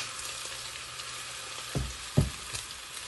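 Chicken pieces for chilli chicken deep frying in oil over low to medium gas, a steady close sizzle with two brief louder bursts of crackle partway through.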